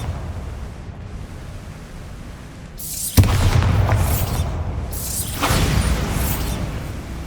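A Bombarda blasting spell in Hogwarts Legacy lands with a sudden loud boom after a quiet lead-in, followed by rumbling debris and a second swelling burst of crackling blast noise.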